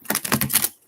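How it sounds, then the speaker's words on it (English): A Santa Muerte tarot deck is shuffled close by in a brief burst of rapid, crisp papery clicks and flutters lasting about half a second, then falls quiet. "I have my Santa Muerte deck here. I'm going to do some shuffling"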